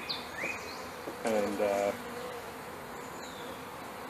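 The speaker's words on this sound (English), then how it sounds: "the bees that are home will let them know where to go" Package honeybees buzz around a hive entrance as a box of about 300 bees sits on a brick in front of it, a steady insect drone with a louder burst midway and one brief spoken word.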